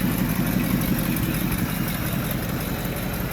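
A large-engined 1941 Cadillac Series 62 idles with its air filter removed, a steady, even rumble with a faint hiss over it, close and continuous throughout.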